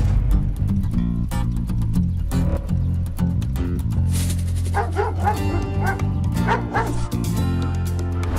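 A Doberman guard dog barks in loud, rapid bursts close by, mixing deep woofs with higher yips and whimpering whines, with brief voices in the background.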